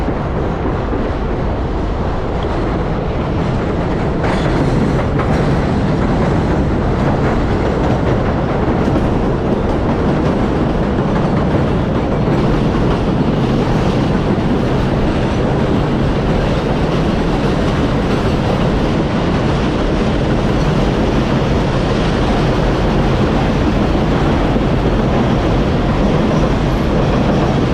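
The number 7 elevated train rumbles and clatters overhead along Roosevelt Avenue in Queens, a loud, sustained roar of wheels on track heard from below while cycling. There is no speech.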